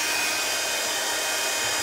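A heat tool warms the back of an ink-stamped cardmaking card to flatten it, giving a steady, close, loud blowing hiss that runs unbroken and alone.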